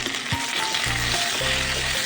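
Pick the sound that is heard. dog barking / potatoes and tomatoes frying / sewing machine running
potatoes and tomatoes frying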